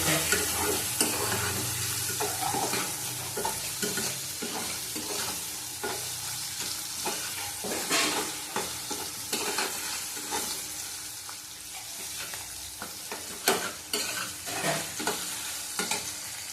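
Prawn masala with a whole tomato fries in a pan, giving a continuous sizzle with repeated scraping and stirring strokes from a spatula, close and moderately loud, with no talk.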